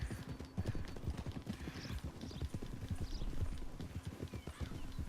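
Horse hooves clip-clop steadily in the Red Dead Redemption 2 game world, a brisk even rhythm of close hoof strikes with a faint whinny, lasting throughout.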